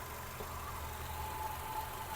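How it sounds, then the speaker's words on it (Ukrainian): A Skoda Octavia A5 car engine idles steadily with a low, even rumble and a faint tonal whine, no voices, constant level throughout. "Двигун працює чітко"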